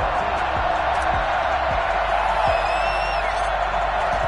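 A stadium crowd roars and cheers steadily in Madden, the football video game, at M&T Bank Stadium in Baltimore, a broad continuous wash of noise with a few soft thumps underneath.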